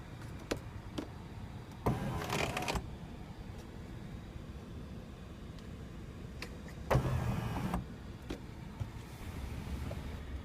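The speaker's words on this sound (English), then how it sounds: "The moonroof can be tilted up for ventilation or slides out for an open air feeling." The power moonroof of a 2015 Acura TLX 3.5L V6 Advance Package is heard inside the cabin as two short electric motor whirs, each lasting under a second, separated by faint clicks and background hum.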